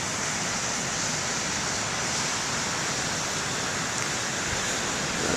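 Surf washes continuously onto the main lighthouse beach at BTL, a dense, even roar of breaking water heard up close throughout, with no voices.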